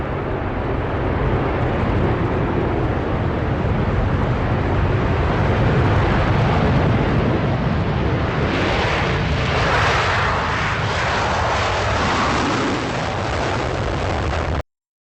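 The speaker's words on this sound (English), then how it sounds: "Speedbird, Concorde Alpha Foxtrot. You're cleared for takeoff 27 right" A Concorde airliner takes off from runway 27 right with a loud, sustained jet roar that rumbles and crackles throughout, swelling into a broader, raspier blast midway, heard from outside with no voices.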